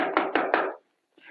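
Three sharp, evenly spaced knocks on a wooden door in an old-time radio drama, close and loud, followed by a brief silence and then a faint sound.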